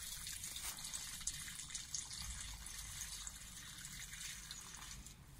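Water pours steadily into a soil basin around tomato plants in an unheated greenhouse, a continuous close gushing and trickling without pauses and no voices.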